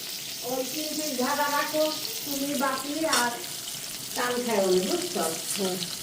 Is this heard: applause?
no